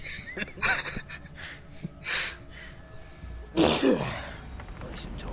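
A single sharp sneeze bursts out loud and close partway through, set among casual conversation and breathy vocal sounds from people talking nearby.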